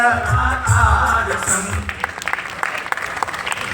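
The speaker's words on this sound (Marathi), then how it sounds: "एकदा जोरदार टाळ्या." An audience at a public program gives a burst of applause, dense clapping heard under and after someone speaking over a microphone, the claps thinning into scattered hits toward the end.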